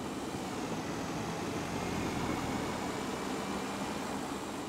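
Car engine and tire noise heard from inside a vehicle through a broken window in Contraband Police, a steady broadband rumble and rushing roar, loud and unbroken throughout, with no talk.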